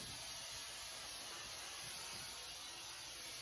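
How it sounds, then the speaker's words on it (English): Hair spray hisses onto a styled, curled lace front wig in one steady, continuous spray close by, a faint but unbroken airy rush with no pauses. "So right now we're gonna use the spray again"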